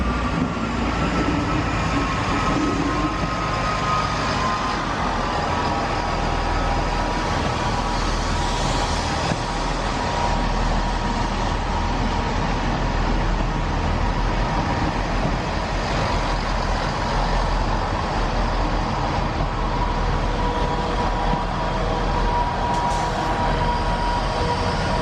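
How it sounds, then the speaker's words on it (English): A train bound for Shrewsbury and Wales idles at a station platform, giving a continuous, loud engine rumble and hum that stays steady throughout. "behind us here we've got a train for Wales"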